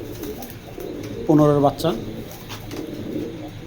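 Racing pigeon cooing close by in a short, throaty burst, heard under someone talking.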